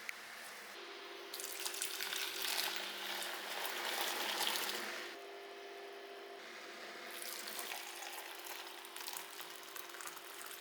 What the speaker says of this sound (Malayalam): ചായ ഇവിടെ അത് തിളച്ച് വരുന്നുണ്ട്.